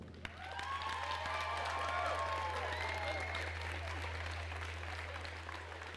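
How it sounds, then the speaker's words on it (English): An indoor crowd at a FIRST Tech Challenge robotics qualifier in Biloxi, Mississippi, applauds the competing alliances with sustained clapping. Whoops and voices rise over a steady low hum, and the applause swells and then slowly fades. "I just want y'all to give a big round of applause for all of our alliances"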